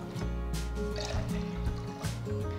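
Water pours steadily into a pot of kodo millet and moong dal for pongal, a continuous trickling fill heard close up over a low background hum.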